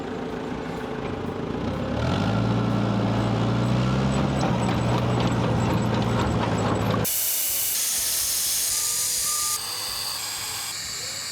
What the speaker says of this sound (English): So I've just taken some air out of these back tyres